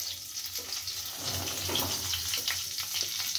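Cumin seeds, bay leaf and a small dried chilli fry in hot oil for a lentil dish, giving a soft, steady sizzle and crackle with a low background hum, fairly quiet and close.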